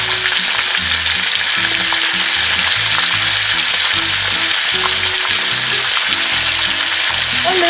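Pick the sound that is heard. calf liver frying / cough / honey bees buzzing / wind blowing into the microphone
calf liver frying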